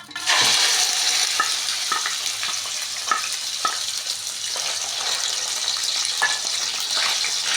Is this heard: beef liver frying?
yes